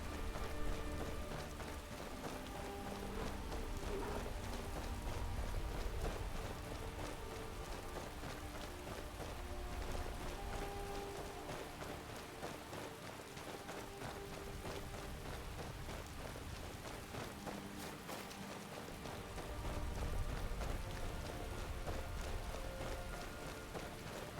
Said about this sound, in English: The air is very cold, said the pop-up, and it's raining.